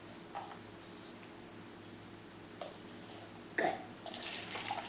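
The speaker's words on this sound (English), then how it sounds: "Now we're going to pour it into here." Liquid poured into a container while making unicorn poop slime, a faint running, water-like flow with brief splashy bursts near the end, quiet and close, no talk.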